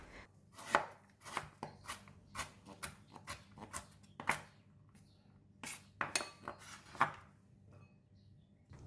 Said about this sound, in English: Chop the ginger